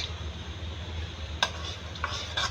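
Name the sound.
semolina being stirred and roasted in oil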